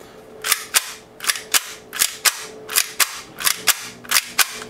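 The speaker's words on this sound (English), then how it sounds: "this dry fire" A UAC Glock lightweight BB pistol dry-fired indoors, giving sharp paired clicks of the slide cycling, repeated about every half second in an even rhythm, close and loud with no talk.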